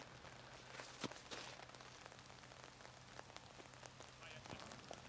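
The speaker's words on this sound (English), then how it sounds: "And that's what you want in this rain." Rain patters steadily on a disc golf course during the final round of the Finnish national championship, a faint continuous hiss with scattered sharper drops and a soft low hum beneath.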